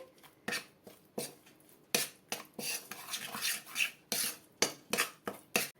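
A spoon scrapes and stirs thick paneer tikka marinade paste in a bowl, close and distinct, in a steady series of short, rhythmic strokes with brief pauses between them and no talking.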